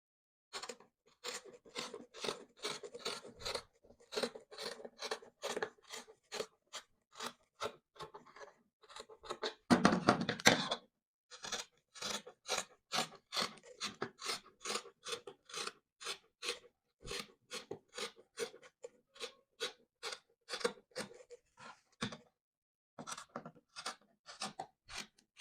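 Scissors cut through T-shirt fabric along a neckline, a long run of crisp, rhythmic snips close up, regular and quiet with a short rustling handling noise midway and no speech.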